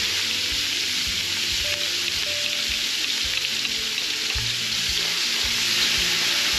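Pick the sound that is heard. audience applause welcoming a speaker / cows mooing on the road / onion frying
onion frying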